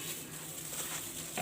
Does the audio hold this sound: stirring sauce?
yes